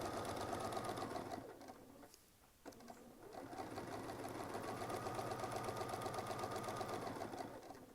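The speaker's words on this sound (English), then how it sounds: "Put some more quilting on it." A sewing machine runs fast and steady during free-motion quilting, making a close, continuous mechanical whir that pauses briefly partway through and then resumes. A faint voice may come through at moments.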